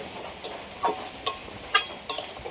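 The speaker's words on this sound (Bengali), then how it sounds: "এই চিড়েটা দেওয়ার পরে আমি বেশিক্ষণ আমি ভাজবো না একটু এই হালকাভাবে এভাবে একটু নাড়িয়ে চাড়িয়ে" Flattened rice (chire) being stirred lightly in a pan with a spoon for mango poha pulao: five soft, separate scraping strokes, evenly spaced, close and fairly quiet.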